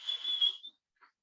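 A person imitates a referee's whistle by mouth, giving three short, thin whistle blasts in quick succession, quite faint, followed by a brief softer chirp after a pause.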